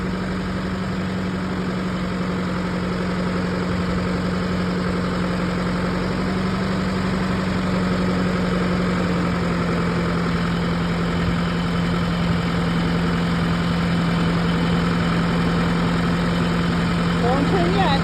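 A farm tractor idles steadily at close range, its low drone holding even throughout, with a faint rise near the end.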